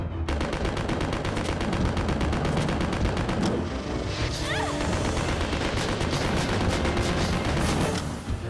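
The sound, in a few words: submachine gun firing in video game Resident Evil Survivor 2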